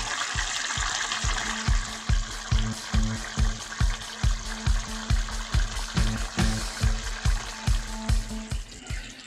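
Spicy chicken sizzles in a covered pan, a steady fry broken by a regular pulsing rhythm of bubbling, moderately loud and close with no voices.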